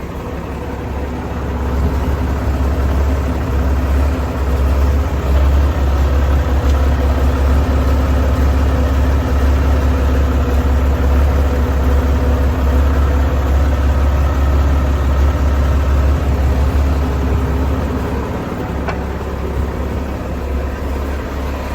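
An Oliver 2155 tractor's diesel engine idles cold, a steady low rumble that runs loud and close for the whole stretch with no revving.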